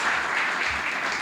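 An audience claps steadily in a lecture hall to welcome a presenter, a dense, even wash of applause with no voices.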